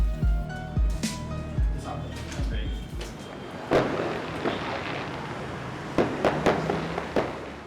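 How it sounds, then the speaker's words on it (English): Fireworks set off outside during election vote counting in Egypt crackle and pop in scattered sharp bursts, some near and loud, others fainter, over steady background noise and indistinct voices. "an election contestant started fireworks with expectations of winning"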